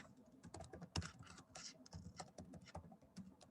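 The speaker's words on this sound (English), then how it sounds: "So I'm typing" Fingers type steadily on a computer keyboard close by, a quick irregular patter of key clicks with one heavier keystroke, with no voices.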